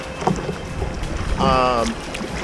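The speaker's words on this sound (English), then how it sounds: "So obviously I'm on the kayak right now." A kayak drifting and paddling on open water near shore in strong wind, with gusty wind buffeting the microphone, soft water wash against the hull and a faint voice in the background.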